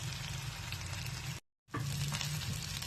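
Chicken tikka boti pieces sizzle steadily on a hot tawa as they fry, a dense, close crackle broken by one brief pause before resuming just as loud.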